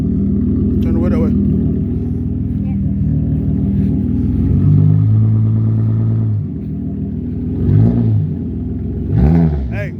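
A car is put in drive and pulls away, its engine rumbling and rising as it accelerates, loud and close, with people talking over it.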